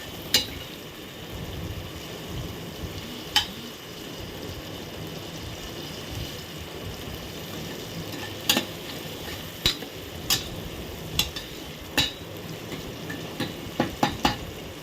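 Tomatoes softening with salt in a pan for a mutton dish give a steady low sizzle, with occasional sharp clicks of a spoon stirring and scraping, and the taps come closer together near the end.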